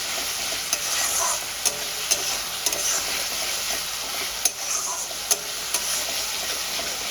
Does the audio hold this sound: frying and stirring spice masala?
yes